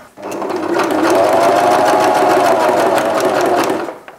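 A sewing machine stitching fabric for a custom van seat cover runs in one loud, close, continuous whirring burst of about four seconds, with no talking over it.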